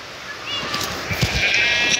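Sheep bleat in a farming video game, with several wavering, nasal calls close and fairly loud over a soft background across two seconds, without any talking.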